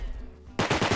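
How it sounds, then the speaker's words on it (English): Gunfire in the video game Rust: a rapid burst of automatic shots kicks in halfway through, loud and close, after a stretch of low background game sound. "Why is he shooting me?"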